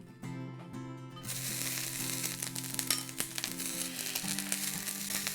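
Bracken ferns with minced garlic hitting hot oil in a pan, a loud, steady sizzle and crackle that swells after a brief start, with low cooking-range hum underneath and no talking.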